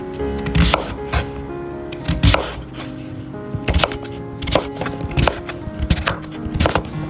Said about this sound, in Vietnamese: Rửa sạch, sau đó thì thái thành những miếng như này.